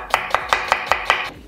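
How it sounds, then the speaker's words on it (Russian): Knife slicing a peeled onion into thin strips on a cutting board, six crisp evenly spaced chops in quick succession, close and clear with no talking. "Берем лук. У нас он уже сразу начищен."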